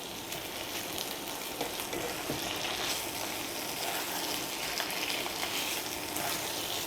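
Soft hilsa fish steaks fry in oil in a mustard masala after being turned, giving a constant close sizzle with scattered pops and crackles and no voices.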